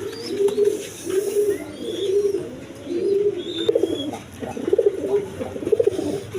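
A colored pigeon kept alone and unpaired coos loudly and close by, its throaty calls rising and falling in a steady series of swelling phrases, with faint chirps in the background.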